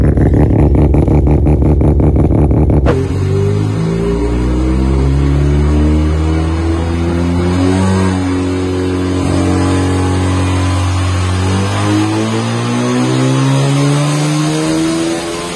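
A car's 13B rotary engine with a Garrett turbo idles roughly, then revs up and holds a loud, steady rising-and-falling drone with a buzzy, high-pitched character, close by.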